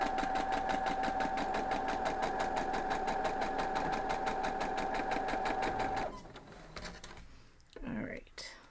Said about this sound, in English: the first two blocks we're going to sew together